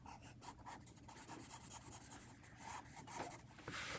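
Hand sketching of a drawing, a continuous close scratch and rub of pencil strokes with quick repeated hatching, quiet and alone without speech.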